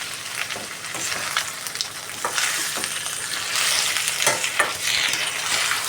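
A steady sizzle of potato curry with onions and tomatoes cooking in a pan, broken by repeated scraping and stirring strokes of a spoon, close and fairly loud with no talking.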